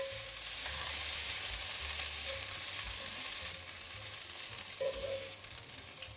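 Ground beef sizzles and fries steadily in a hot pan over medium-high heat, a continuous crackling hiss with occasional stirring, with no one talking.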